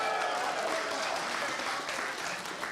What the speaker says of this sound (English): you're gonna keep your applause going for this very excellent next group